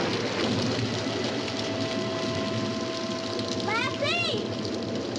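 Steady rain falls through a storm in a 1960s rural drama scene, a dense constant hiss behind people speaking, with rising whistle-like tones near the end.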